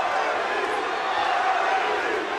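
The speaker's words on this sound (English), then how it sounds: "the crowd chanting both Cabbage and Butterbean" A boxing match crowd between a boxer and an MMA fighter roars and chants in a thick, continuous wash of voices, loud and unbroken from start to finish.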